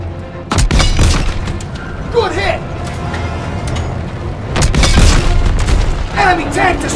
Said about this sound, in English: Enemy tank destroyed!